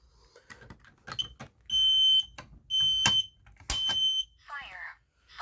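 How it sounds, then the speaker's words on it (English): A smoke alarm in a fire alarm system test with voice evacuation sounds three loud, piercing electronic tones of about half a second each, separated by short gaps, with a voice speaking before and after. "I'm going to go ahead and activate the smoke alarm,"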